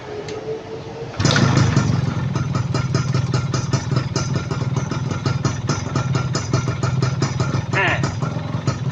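A GTO 125 motorcycle engine kicks into a loud, close, rapid chugging run after a quieter start and keeps a steady rhythmic beat through gear shifts, with a short rising whine near the end.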